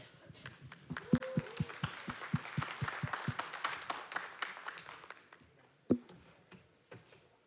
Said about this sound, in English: Please welcome Hongjae with a huge round of applause